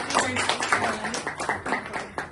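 A group at a tour-winning celebration claps along, quick uneven hand claps close by, with voices talking over them.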